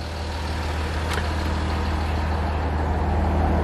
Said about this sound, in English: I'm going to keep the engine running